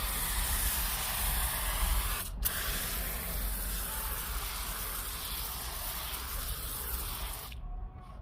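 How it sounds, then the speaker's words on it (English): A foam sprayer hisses steadily for several seconds, a continuous close foamy spray of snow foam onto car tyres and alloy wheels, with a short pause near the start before cutting off at the end. "So let's actually start spraying it."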